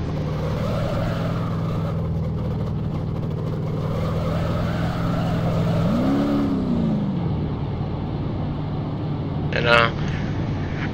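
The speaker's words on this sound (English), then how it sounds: "I could even hit the gas and it'll accelerate through the, and then it'll just go and slowly like rev down" Car engine in the BeamNG.drive driving game holding a steady drone, then briefly rising in pitch as it accelerates before easing back down, with a person talking over it.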